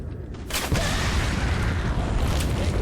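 Explosive blast thrown at enemies in the Resident Evil 4 video game, a sudden loud boom after a brief quiet moment, followed by a sustained rumbling burst of noise.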